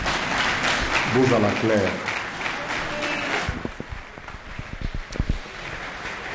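A conference audience applauds after a speech, dense clapping at first with a voice speaking over it, then thinning into scattered individual claps toward the end.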